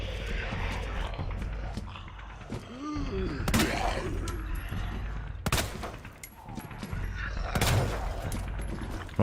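Several sharp gunshots ring out in Resident Evil 2 Remake, spaced a few seconds apart, with game ambience, creaks and groaning between the blasts.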